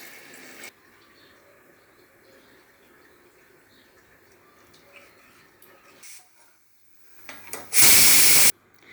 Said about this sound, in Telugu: ఒక గ్లాస్ వాటర్,